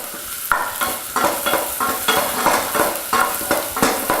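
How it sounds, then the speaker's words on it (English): Finely minced carrots, celery and onions sautéing in a pot for beef barley soup, a continuous close sizzle broken by regular scraping stir strokes roughly every half second, no voices. "Saute those for a moment, just until you start to see the onions and celery turn a little bit translucent."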